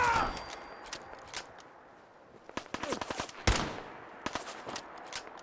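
Rifle gunfire in Fallout 4, a scattered string of sharp shots, some in quick bursts, with quiet gaps between volleys, fairly close and crisp.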